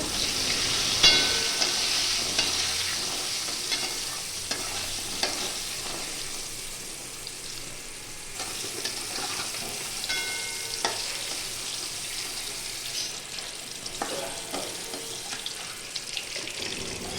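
Pointed gourd pieces frying in hot white oil in a kadhai with a pinch of salt, a steady close hiss and sizzle throughout, broken by occasional stirring clinks of a spatula against the pan.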